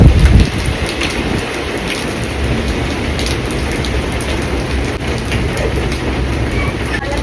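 Heavy rain pours down at night, a loud, steady hiss of dense drops drumming on surfaces close by, unbroken from start to finish after a brief thump at the beginning.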